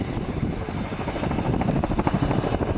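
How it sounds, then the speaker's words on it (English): A Boeing CH-47 Chinook transport helicopter flying an aerobatic display makes a steady, loud, broadband rotor-and-engine roar that fills the whole stretch without a break. "The Boeing CH-47 Chinook helicopter may look like a lumbering transport, but this video proves that it can also kick up its heels and put on a show"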